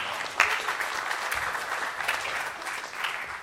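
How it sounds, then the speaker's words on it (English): A conference audience at DrupalCon Baltimore 2017 breaks into applause, a dense, steady wash of many hands clapping at moderate distance, filling the whole stretch without speech. "come on, you got to clap for that."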